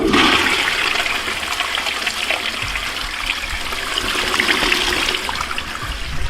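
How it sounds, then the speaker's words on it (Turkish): A toilet flushes loudly and close up: a strong rushing surge of water that settles into a continuous gurgling trickle as the tank refills, with no talking. "Evet gördüğünüz gibi şimdi sifona bastım arkadaşlar."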